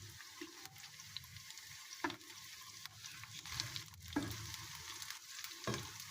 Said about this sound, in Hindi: अब हम इसमें डालेंगे टमाटर और इनको भी सॉफ्ट होने तक फ्राई करेंगे।